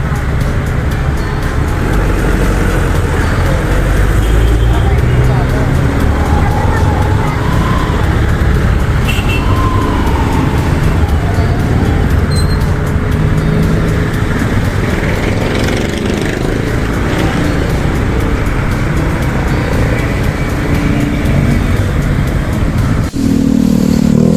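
A motorized tricycle engine runs loud and close while driving, a continuous rough drone with slight rises and falls over more than twenty seconds of road noise.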